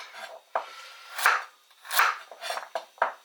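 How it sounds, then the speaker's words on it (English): Carrots being chopped into large chunks with a knife on a board, several distinct loud cuts at an uneven rhythm, close up, no talk. "I just want to chop my carrots into fairly large peasanty chunks"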